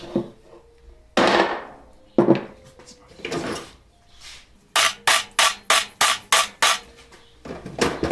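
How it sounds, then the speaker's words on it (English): Metal sword tang struck with a hammer to snap off its threaded portion, on a cheap junk sword: scattered sharp blows early, then a rapid run of six loud evenly spaced strikes, with a few more at the end. "let's see if I can just snap that threaded portion off"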